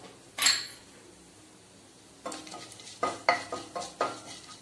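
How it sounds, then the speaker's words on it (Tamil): Cinnamon and two cardamom pods frying in oil for moringa rice, with a sharp sizzle as the spices hit the pan, then a run of close stirring scrapes and clinks of a spoon against the vessel. "ரெண்டு ஏலக்காய் இதெல்லாம் போட்டு நம்ம வறுத்துக்கிறோம்"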